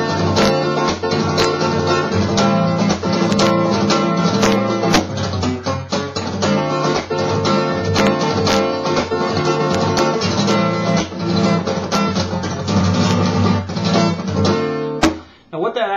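Fast flamenco guitar playing, dense rapid strums and rasgueado-like bursts running continuously and loud at close range, a steady wall of bright chordal attacks that drops off abruptly near the end.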